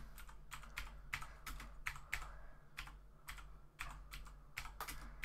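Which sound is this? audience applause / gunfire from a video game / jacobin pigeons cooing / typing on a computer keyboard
typing on a computer keyboard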